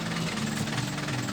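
A low, rumbling tractor engine drones steadily, close and loud, with a rough vibrating texture throughout.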